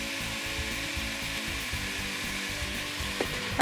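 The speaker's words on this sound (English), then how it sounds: "So you just want to cook it until the ground beef gets all brown and it's not pink anymore" Ground beef browns in a pan with kosher salt and pepper for sloppy joes, giving a steady, even sizzle that holds through without pauses and with no voices.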